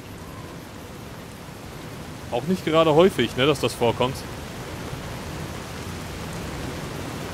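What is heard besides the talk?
rain falling in the video game Fallout: New Vegas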